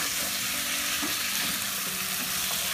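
Pieces of ash gourd frying in hot oil in a pan, a steady, even sizzle that fills the whole clip with no talking.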